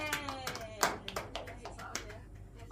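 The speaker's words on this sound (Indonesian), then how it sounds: "Bisa beri tepuk tangan?" Scattered hand claps from a small classroom group of children ring out as a handful of separate, uneven claps, with children's voices talking over them.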